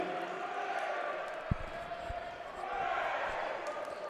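The BYU Cougars crowd fills a college volleyball arena with a steady, distant murmur. A single sharp thump of a ball cuts through early on, and the noise swells slightly toward the end.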